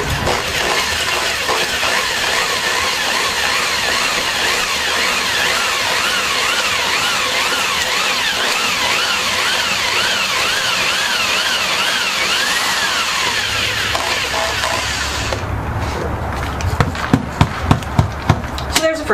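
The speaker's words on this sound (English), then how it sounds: "I believe they call this a spade bit or a shovel bit, but it's a one. It will carve a 7/8 inch hole" A power drill bores a 7/8 inch hole with a spade bit, a loud continuous whining grind with wavering pitch that drops off near the end into a few sharp knocks and clatters, with someone speaking at times.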